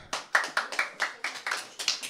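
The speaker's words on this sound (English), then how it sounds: "Okay, clap if you don't." A handful of people in a stand-up comedy audience clap in sparse, separate bursts, roughly ten distinct claps with short gaps, close and fairly crisp.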